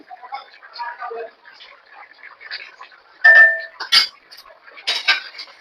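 A spatula stirs an egg, potato and cauliflower curry with garam masala and ghee in a pan, producing a few light metallic clinks and scrapes while a person talks throughout.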